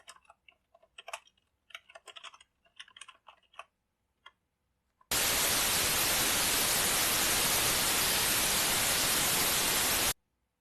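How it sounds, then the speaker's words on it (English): Broadband white noise hisses steadily and loudly for about five seconds, like TV static, after a stretch of quiet clicking keyboard typing. "You may have heard white noise before."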